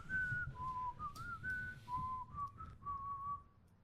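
A person whistles a short wavering melody of several sliding notes, close and clear over a low rumbling background, without speech.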